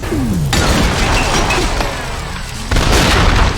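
Heavy sci-fi cannon fire from the shooter game F.E.A.R., a loud booming blast with a crashing, shattering tail, followed by a second burst near the end, dense and up close.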